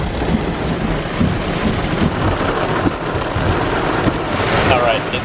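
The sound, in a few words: heavy rain and thunderstorm at a beach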